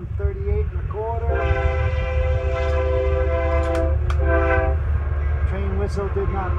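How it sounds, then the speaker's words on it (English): A train rumbles steadily nearby while its whistle sounds in several long blasts with short gaps between them, loud over the rolling rail noise. "Train whistle did not register."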